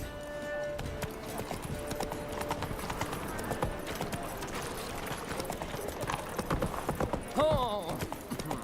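Roach, the horse in The Witcher 3: Wild Hunt, gallops with rapid rhythmic hoofbeats under game music and ambience, with a brief whinny near the end.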